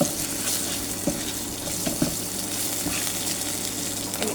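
Leafy greens fry in a hot induction-heated pot along with onions and green chili, giving a steady bright sizzle with a few soft stirring knocks, fairly quiet and without voices.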